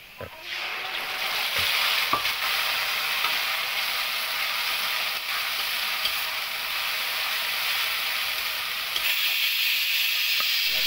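Chopped onion and spices fry in a pan, a steady loud sizzle with occasional clicks of stirring throughout, no voices.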